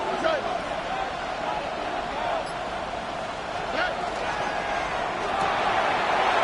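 Stadium crowd noise in an American football video game, a continuous roaring swell that rises toward third down, with a commentator talking over it.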